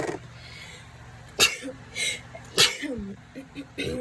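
A person sneezes sharply twice in a quiet room, each burst short and close, with a few faint rustles and small vocal sounds between.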